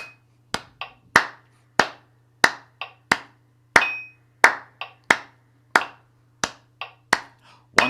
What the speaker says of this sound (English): Now we're doing 6 claps in a bar.